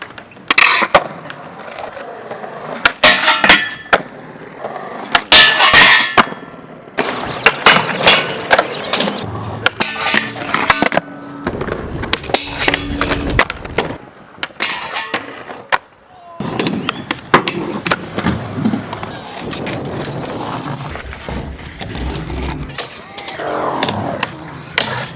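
Skateboard wheels roll and the deck snaps, scrapes and clacks through repeated crooked grind attempts on a ledge, with sharp loud impacts and grinding bursts separated by short gaps of rolling.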